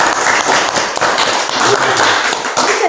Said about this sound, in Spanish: Aplausos para nosotros.